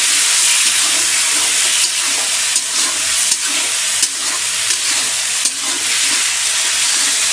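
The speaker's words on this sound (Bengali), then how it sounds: "এখন এই মশলার মধ্যে মাছগুলো একটু ভালো করে কষিয়ে নেব।" Baim eel pieces fry loudly in spice paste, a constant close sizzle broken by faint stirring scrapes, with no voices.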